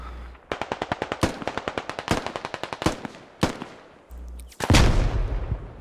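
Bursts of rapid automatic gunfire in the tactical shooter SquadOps, a fast rhythmic rattle broken by short pauses, then a heavier, louder blast near the end, with no talking.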